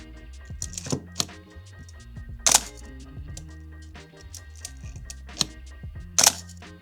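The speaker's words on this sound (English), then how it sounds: "It has that iconic shutter sound, which is so satisfying." Several sharp mechanical film camera shutter clicks, crisp and close, spaced irregularly with brief whirs and handling noises between them.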